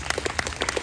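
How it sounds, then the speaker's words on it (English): Audience at a Welcome to Country gathering clapping for an honoured guest: a brief burst of distinct, fairly close handclaps from a modest group, uneven and scattered. "Give him a clap"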